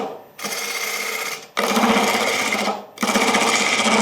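A wood lathe spins at about 1,000 rpm while a Hurricane carbide tool cuts the inside of a bowl, a loud buzzing, rattling whir in three bursts separated by brief near-silent pauses.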